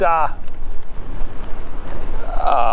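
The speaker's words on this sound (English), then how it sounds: "boy, we got a strong wind coming through here" Strong wind buffets the microphone during an e-bike ride, a loud, constant rumbling roar running through the whole stretch, with brief voice-like tones at the start and end.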